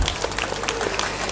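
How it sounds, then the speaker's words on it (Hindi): Loud, dense applause fills a political rally crowd, steady clapping with scattered crowd noise and no pauses for the full brief stretch. "जोरदार तालियां अभी इस पे।"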